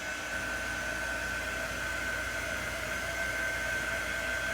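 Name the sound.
heat tool (quick dry tool) drying black paint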